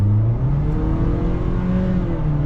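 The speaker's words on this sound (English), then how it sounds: "let's get back up to some speed in normal mode." A 2025 Toyota Corolla SE accelerates in normal mode, its engine drone rising smoothly in pitch as revs climb, heard from inside the cabin with a steady low road rumble and no talking.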